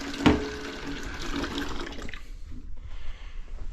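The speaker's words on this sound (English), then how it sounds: "I want to add about 1 inch of water in the bottom of it" About an inch of water is poured from a pan into the bottom of a pressure cooker for canning deer meat, a close splashing gush that starts sharply, runs for a couple of seconds and tapers into quieter dribbles.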